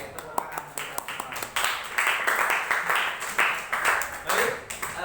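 Students at a junior high school clap together, a dense, lively burst of hand claps swelling after a few scattered early claps, with voices calling out beneath.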